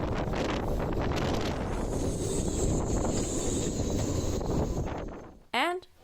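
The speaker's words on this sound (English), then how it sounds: "Gusts are going up to 60 knots already." Hurricane wind gusts to about 60 knots batter a boatyard, a loud, sustained roar of wind buffeting the microphone that eases briefly near the end, where a short voice cuts in.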